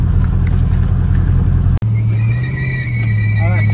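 Ford Falcon AU XR8 doing a burnout, a loud sustained engine roar with revving that steps up midway, tyre noise mixed in, with people talking over it.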